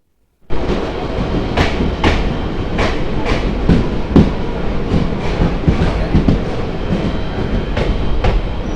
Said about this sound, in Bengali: ফাইনালি পৌঁছে গেলাম লালগোলা রেলওয়ে স্টেশন ভারতবর্ষের একদম শেষ সীমান্ত